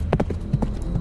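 Hooves of several horses clip-clop in quick, uneven beats as they run out of a field, fairly loud and close with no talk over them.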